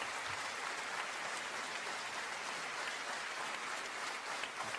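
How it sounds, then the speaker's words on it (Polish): Sustained audience applause at a cabaret comedy show, a steady dense wash of many hands clapping at moderate, even level throughout with no talk over it. "Brawa!"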